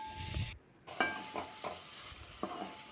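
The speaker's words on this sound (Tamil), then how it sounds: "இப்போ இது நல்லா வதக்கோங்க. வெங்காயம் தக்காளி எல்லாம்" Chopped onions and tomatoes sauté in hot oil for a mochai brinjal kulambu, a close, steady sizzle broken by a few spatula scrapes and stirs.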